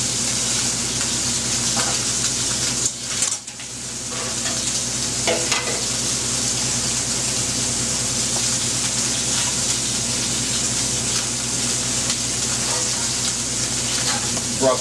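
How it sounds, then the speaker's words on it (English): A filet and scallops searing until crispy in a hot restaurant pan sizzle and fry continuously, close and loud, with a brief clatter partway through and no talk. "We seared the filet so it's nice and crispy on one side, and now we're going to crisp the other side as well."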